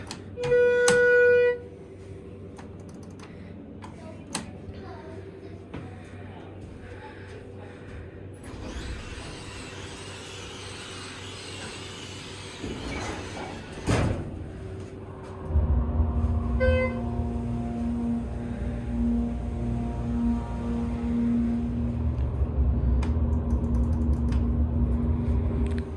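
An early Schindler 330A hydraulic elevator with a rusty, sluggish door, heard with a chime, the door rumbling open and shut, a clunk, then the steady hum of the car riding, close and clear.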